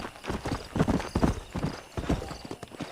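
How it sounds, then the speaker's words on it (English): Horse hooves clip-clop in an uneven run of hollow strikes across a rural-themed open-world video game, close and fairly loud, with no voices. "Meu cavalo tava lá em cima."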